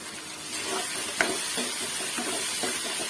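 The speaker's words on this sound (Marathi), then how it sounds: "छान सर्व एक करून फ्राय करून घेऊया" Potatoes, onion paste and chopped tomato fry in a pan with a soft, continuous sizzle, while a spoon stirs and scrapes through them in short, uneven strokes; no voices.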